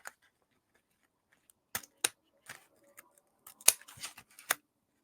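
Scissors snipping through paper for a mixed media gift bag, a handful of quick, crisp cuts close by in a quiet room, irregular and separated by pauses.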